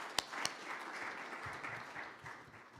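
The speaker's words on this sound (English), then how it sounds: "I would like us to give him a round of clap as he comes over." Polite applause from an audience at a formal strategic plan launch event greets a retired brigadier arriving to speak, a soft, distant, steady patter of clapping with a couple of sharp claps near the start.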